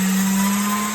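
A pasta machine runs with a steady, close electric hum and whine, a single unbroken tone with no pauses across the short stretch.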